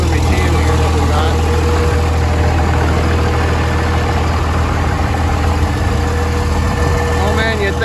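A Cummins diesel truck idles just after starting, a loud, steady low rumble with constant vibration filling the whole stretch at close range, while someone talks over it.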